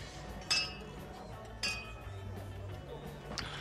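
Glasses of mid-range cava clink together in a toast, two sharp chimes about a second apart and a fainter third, close by and quiet, with soft talk in the background.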